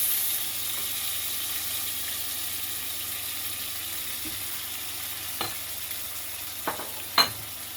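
Tomatoes frying in a pan give a steady close sizzle with a soft hiss, a few clinks from a utensil near the end, no voices.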